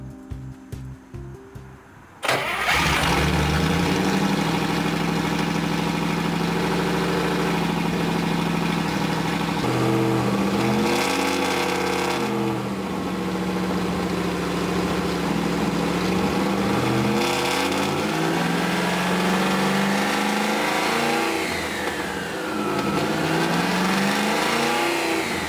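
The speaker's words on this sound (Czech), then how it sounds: "že zvuk motoru byl naprosto fantastický" Newly fitted engine in a homemade truck trial vehicle fires up after a quiet start, then idles loudly and close by with repeated revs rising and falling over a long stretch.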